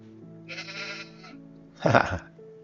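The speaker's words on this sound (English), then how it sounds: "Got 2 sheep over here." Sheep in the farming game Farming Simulator 22 let out two close bleats, a thin wavering cry followed by a louder, harsher one, against quiet background hum with no talking.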